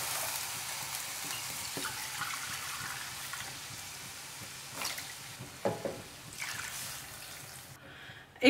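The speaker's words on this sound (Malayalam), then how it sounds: "ഇപ്പൊ ഞാൻ 3 കപ്പ് പാലും ഇതിലേക്ക് ഒഴിച്ചു കൊടുത്തിട്ടുണ്ട്." Milk poured into a pan over a low flame for flattened rice kheer gives a steady, faint liquid hiss and sizzle, with a few soft clinks near the end and no talking.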